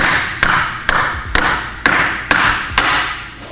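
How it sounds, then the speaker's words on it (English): A hammer strikes old wheel studs out of a roughly 45-year-old Porsche 911 hub: six loud, sharp metallic blows at an even, quick rhythm, each ringing briefly before the next. "We gotta get these studs out, so hopefully they pound right out."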